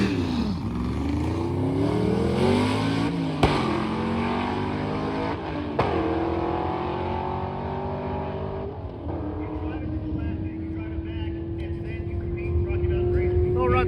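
Drag race car making a quarter-mile run, its engine rising through sweeping pitch climbs with sharp gear-change breaks, loud and close, then settling into a steady high drone.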